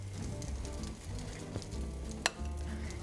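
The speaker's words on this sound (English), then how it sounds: "this again is frying, but it's more like sauteing" Okra and corn fritters fry in a lightly oiled, well-seasoned pan, giving a steady close sizzle with small crackles and one sharp pop, no talk.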